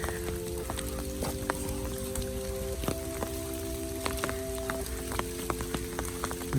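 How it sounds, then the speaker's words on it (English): Steady rain patters on leaves overhead, a continuous soft hiss with scattered distinct drops. "Very tranquil, especially with the rain slightly going overhead."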